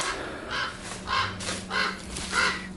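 Four loud, harsh crow caws in an even rhythm, close by, with a low hum underneath.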